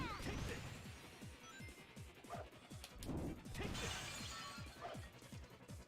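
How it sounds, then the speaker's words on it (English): A glass-breaking sound effect from the Sonic Heroes video game plays at a low level, with several sharp crashes and smashes over a faint, busy background. "That is a really good glass breaking sound effect."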